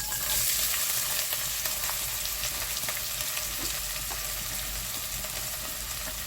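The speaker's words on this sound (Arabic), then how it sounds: "في حله حطيت 3 معالق من الزيت يسخنوا، وهنزل بالبصله" Dense, steady sizzling of onion frying in hot oil in a pot, with occasional scraping and stirring sounds, close and continuous throughout.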